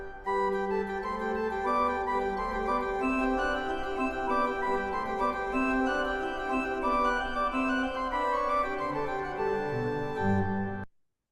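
Sustained pipe organ chords on foundation stops, recorded from CD, fill the clip with rich steady harmonic tone and slowly moving bass before cutting off near the end.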